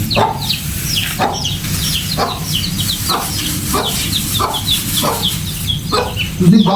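Chickens cluck in short repeated bursts close by, with steady background noise and no talking.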